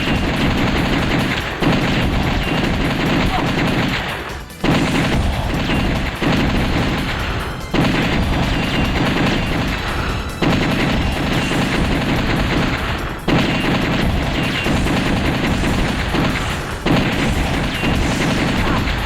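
Video game gunfire, loud rapid bursts of automatic shots repeating in several long volleys with brief gaps between them, the player speaking now and then under the noise.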